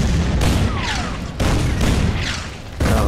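Artillery bombardment in the World War II strategy game Order of Battle, heard as a sequence of loud booming salvos about every second and a half, each decaying into a rushing rumble.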